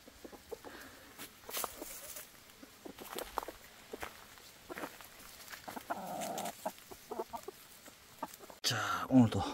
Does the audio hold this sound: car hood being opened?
no